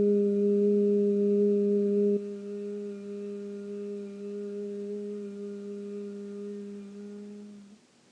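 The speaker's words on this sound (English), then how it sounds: "doing a humming sound like this" A woman hums a long, steady low note for bee breath (Bhramari) in a slow-flow yoga practice. The tone is sustained and clear, steps down slightly partway through, and fades out at the end.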